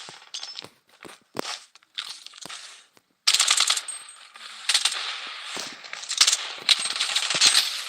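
Gunfire in the video game Payday: scattered single shots at first, then loud sustained automatic bursts with clinking casings, close and dense, without talk.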